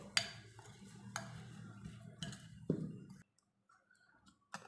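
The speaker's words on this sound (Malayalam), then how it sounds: "ഇത് നല്ലതുപോലെ മിക്സ് ചെയ്ത് കൊടുക്കുക." A spoon stirring potato curry with pepper and chilli powder in a pan, a few distinct scraping taps at irregular intervals, close and quiet, alone without talk, ending in a short near-silence before one more tap.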